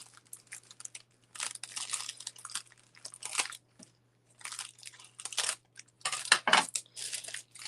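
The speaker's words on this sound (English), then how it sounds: "I'm going to grab just some regular old scissors" Ordinary household scissors trim close up, giving crisp snipping and crunching cuts in short irregular bursts separated by brief pauses.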